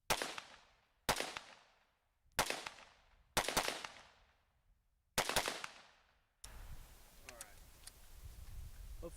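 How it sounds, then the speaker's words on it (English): Five loud rifle shots fired through an Effin-A MKII compensator at a steel plate, each a sharp crack with a long decaying echo, spaced about a second apart, followed by quieter outdoor ambience. "To start with, I'm going to be shooting at the top left plate."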